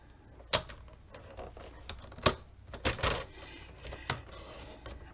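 Paper cutting board trimming a thin sliver off a sheet of paper: several sharp, separate clicks and snaps of the blade and board, close and dry, spaced irregularly with quieter rustling between them.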